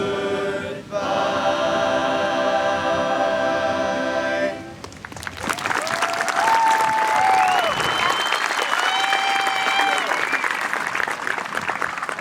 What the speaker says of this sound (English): How about another round of applause for our Mattawan Regional High School choir?